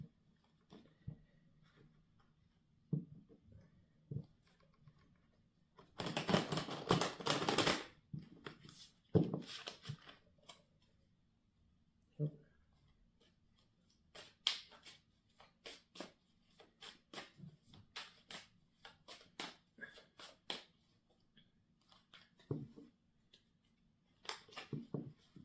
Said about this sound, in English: I'm just going to shuffle and cut the cards.